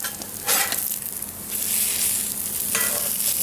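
Tofu frying in a hot pan gives a steady sizzle with crackling bursts, rising sharply at about half a second and again near the end, while it is stirred or shifted. Close and fairly loud, with no voices.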